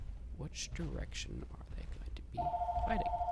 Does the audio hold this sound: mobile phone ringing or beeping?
yes